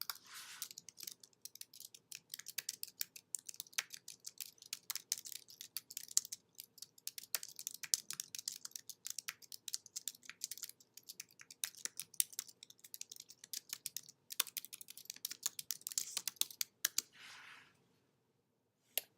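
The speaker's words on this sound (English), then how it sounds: "To do so, you would just type in their email address." Rapid, irregular keystrokes on a computer keyboard while entering an email address, close and crisp, running steadily with brief pauses and no talk.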